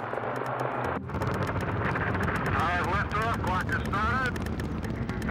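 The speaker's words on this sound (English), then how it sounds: "The third orbital flight of Mercury takes off October 3rd, 1962." A Mercury rocket lifts off on the third orbital flight in October 1962, a heavy continuous roar filling the clip while someone talks over it.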